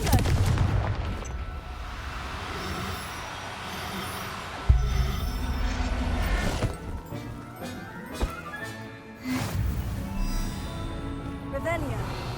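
Confringo fire spell blasts in the video game Hogwarts Legacy, heavy booming impacts and crackling bursts over a continuous rumbling battle bed, with voices casting spells between the explosions.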